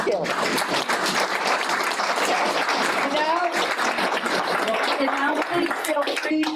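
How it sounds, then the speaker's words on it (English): An audience at a historical society talk breaks into sustained applause, a thick, even patter of clapping with voices murmuring and talking underneath throughout. "I'd just like to leave some applause for your work"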